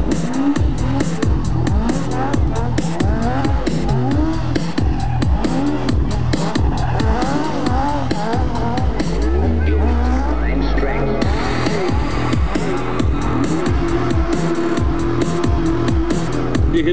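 A stunt car at a stunt show, with its engine revving hard and tyres squealing through tight manoeuvres. The sound is loud and continuous, with a commentator talking over it throughout.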